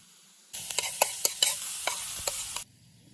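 Onion frying in a pan gives a loud, close sizzle that starts abruptly and runs about two seconds, punctuated by several sharp spatula scrapes and taps before cutting off.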